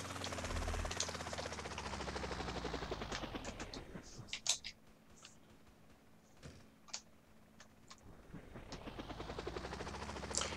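Scattered, fairly faint gunshots and short bursts ring out in a custom mission of the video game GTA San Andreas, spaced irregularly over a low droning background that rises and falls.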